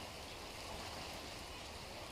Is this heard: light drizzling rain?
yes